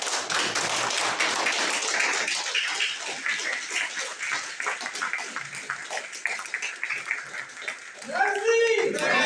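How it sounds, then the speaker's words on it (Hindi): An audience at a leaders' gathering gives sustained applause, a dense crackle of many hands clapping throughout, with a voice speaking over it and a louder voice near the end. "सब लोग खड़े होकर के जोरदार तालियां बजाएंगे"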